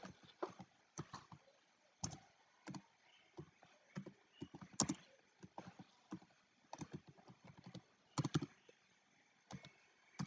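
Quiet computer keyboard typing while C++ code is written, soft irregular clusters of keystrokes with short pauses between bursts, close and alone with no talk.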